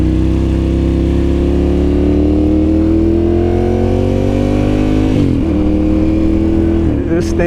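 A 2009 Ducati Monster 1100 motorcycle engine on its first ride after a wreck rebuild, droning steadily and rising in pitch as it accelerates, then dropping briefly with a gear change before pulling again, loud throughout.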